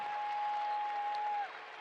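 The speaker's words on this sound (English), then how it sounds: "This crowd starting to give a little bit of life to their Jackrabbit squad, starting to give a little bit of extra cheering" Crowd cheering and applause fill a women's college basketball arena for the South Dakota State Jackrabbits against St. Thomas, a steady broad roar that holds loud, then dips slightly near the end, with a sustained whistle-like tone running through it.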